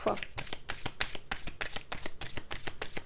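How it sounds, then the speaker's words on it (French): Tarot cards being shuffled in a rapid, steady run of crisp riffling flicks, fairly close and continuous for about three seconds with no talking. "on va tirer quand même quelques cartes du tarot"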